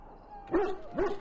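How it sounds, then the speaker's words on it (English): A Mabari war dog in Dragon Age Origins gives two short, weak, whimpering growls close by, with a faint hum underneath. "The Mabari growls weakly"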